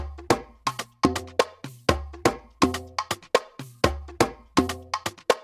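Percussion loop from an afro house track: a steady, syncopated pattern of tuned, woody hits with sharp attacks and short ringing tails, repeating in a tight groove over a deep low pulse, loud and close with no voices.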